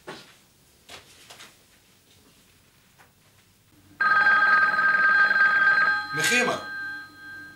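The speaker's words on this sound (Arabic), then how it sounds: "رد على التليفون." In a quiet room in an Egyptian TV drama, a telephone bell rings loudly and continuously for about two seconds after faint knocks. A voice follows briefly.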